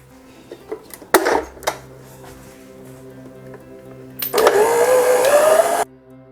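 Electric mixer beating chocolate cake batter at medium speed in a home kitchen, a loud steady whir running about a second and a half after scattered clatter and knocks.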